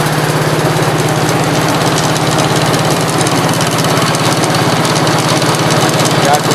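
A 1967 Gravely 430 tractor's transmission spins steadily with a continuous mechanical whir and rhythmic low engine throb, running loud and close throughout without pause.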